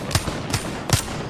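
Three separate gunshots in Apex Legends, evenly spaced and fairly close, each a short punchy crack over steady game background noise.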